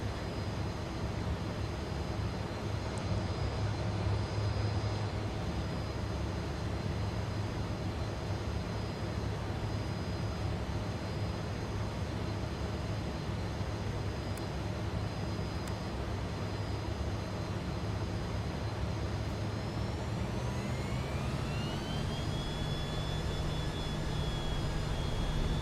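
Airliner engines spooling up to takeoff power in Microsoft Flight Simulator 2024, a steady loud roar throughout, with a rising whine building near the end.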